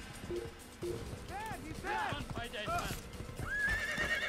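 A horse in Assassin's Creed whinnies repeatedly with rising and falling cries over clip-clop hoofbeats and game sounds, while a person talks over it.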